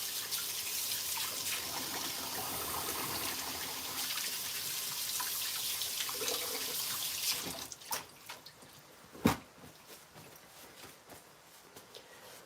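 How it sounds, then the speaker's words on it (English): Tap water runs steadily into a kitchen sink while hands are washed during baking prep, then the flow stops, leaving a few drips and small clunks. "so I'm gonna wash my hands really quick"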